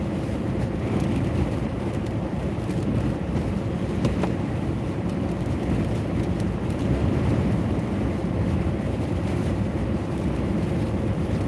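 Strong blizzard wind roars continuously atop a bridge off Long Beach Island, New Jersey, a dense low rumble buffeting the microphone with no pauses.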